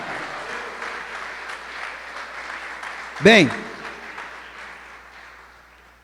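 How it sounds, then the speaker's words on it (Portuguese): A church congregation applauds during a sermon, a broad, continuous spread of clapping under a speaking voice, with a sharp vocal cry or cheer bursting out near the middle before the sound slowly tapers away. "Vamos aplaudir o Senhor."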